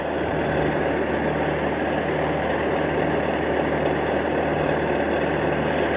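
An engine idles steadily with a constant low rumble and hiss of running exhaust, unchanging and close by, with no voices.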